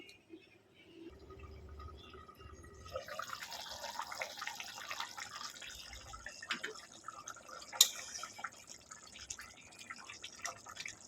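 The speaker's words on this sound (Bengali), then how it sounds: "পাঁচ মিনিট একটু সেদ্ধ করে নেবো আলুগুলো" Potatoes simmer in a pot of water, a quiet bubbling and dripping liquid sound that starts near silence and settles into a soft steady gurgle with occasional louder pops.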